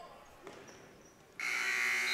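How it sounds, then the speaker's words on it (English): The end-of-quarter buzzer goes off at a high school girls' basketball game in a gym, a loud sustained electronic drone cutting in suddenly after quiet crowd murmur and a ball bounce. "The buzzer sounds."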